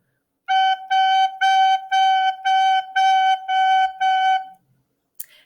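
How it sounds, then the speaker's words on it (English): A recorder plays eight even eighth notes on a single clear, steady pitch, each tongued separately in a regular rhythm, close and clean, followed by a brief quiet click. "to play it on my recorder, it would sound like this."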